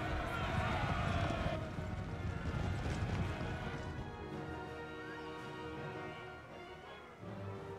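Lancers on horseback charging in Empire: Total War, a faint rumble of hooves and clashing battle noise that builds early then thins into a softer distant din, with voices beneath.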